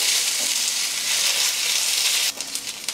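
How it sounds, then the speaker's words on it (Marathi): Onion sautés in oil for a vegetable sabji, giving a loud, dense hiss that runs steadily before breaking into a few softer, uneven crackles near the end. "तर आपण 2 चमचे तेल घालूया, म्हणजे कांदा अगदी व्यवस्थित परतल्या जाईल।"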